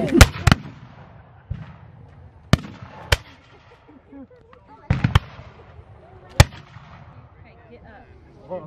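Black-powder muskets fire at a battle reenactment of the Raid at Martin's Station: several sharp, loud reports, some single and some in quick pairs, ring out with rumbling echoes between them while voices talk softly in the background.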